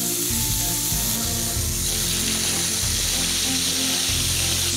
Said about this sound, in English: A little bit of oil, and you want the pan on about medium-high heat so that you get a nice sear.